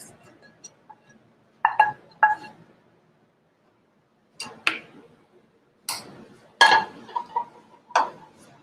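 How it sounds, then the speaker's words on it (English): Spinach and potato taco filling being mixed in a bowl, with scattered clinks and scrapes of a utensil against the bowl coming in short bursts separated by quiet gaps. "we're going to put it in a bowl and mix it"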